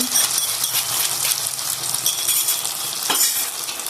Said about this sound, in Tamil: நெய் நம்ம அதில் முந்திரி பருப்பை போட்டு வதக்கி இந்த அல்வாவோட ஊற்றிடுவோம்